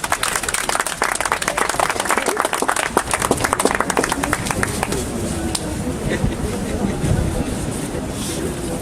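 Crowd applause for a speaker at a public gathering, a thick burst of clapping that thins out over several seconds as a voice and room noise take over.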